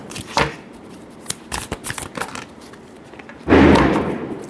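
Tarot cards shuffled by hand, with a soft riffle first, then a series of light, crisp card flicks and taps, and a longer, louder riffling burst toward the end.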